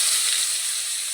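Onion dropped into hot oil in a kadai with bay leaves and fried egg, giving a steady, bright, close sizzle that hisses continuously without pause.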